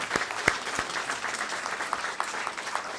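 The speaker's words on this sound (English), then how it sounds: "let's give our practitioners a round of applause" Scattered clapping from a modest church congregation during a service, fairly soft and steady, with a few sharper claps standing out near the start.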